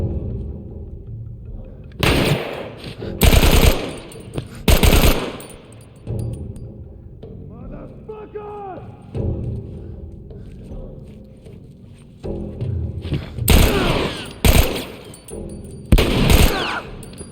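Bursts of heavy gunfire from a bigger gun in The Last of Us, loud clustered volleys early and late with a quieter stretch of lighter sounds in between; no talking.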